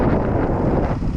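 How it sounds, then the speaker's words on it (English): Strong wind buffets a microphone outdoors along abandoned Route 66 near the New Mexico ghost towns of Montoya and Cuervo, a loud, constant low rumble with no other sound. "Whoa, it's windy out here."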